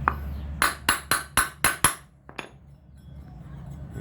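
Six sharp, evenly spaced metallic hammer strikes drive a part into a lawn mower that starts but whose blade will not spin, followed by two lighter taps and quiet room noise.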